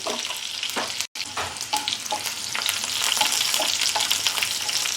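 Steady crackling sizzle of onions frying in hot oil until browned, close and continuous, with a brief dropout near the start.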